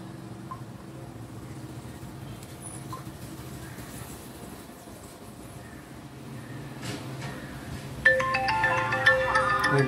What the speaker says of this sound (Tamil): பாருங்க ஃபோன் வந்தா இதுல ரிங் ஆகுது